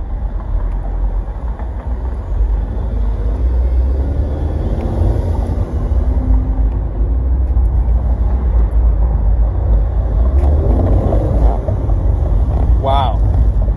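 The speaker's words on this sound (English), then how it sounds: "you can hear the boost too, which is amazing" A 2018 Ford Mustang EcoBoost convertible drones steadily while driving, its turbocharged engine and wind rush forming a loud continuous roar with a brief rising whistle near the end.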